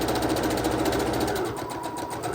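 A sewing machine runs steadily nearby, its needle tapping in a fast, even rhythm before easing slightly.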